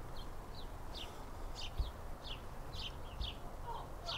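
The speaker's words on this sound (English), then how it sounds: "You can hear those birds out here on this beautiful day." Birds chirping in a sunny urban backyard food-forest garden beside a chicken coop, short high calls repeating every half second or so over a steady background hiss.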